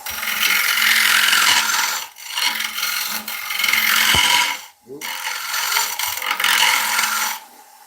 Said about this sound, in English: swap back over to my 3/8 ball gouge.